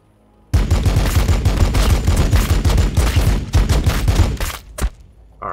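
Dense rapid gunfire from the Warhammer 40,000: Battlesector video game, loud and continuous bursts of overlapping shots with a rhythmic low thump, fading briefly near the end.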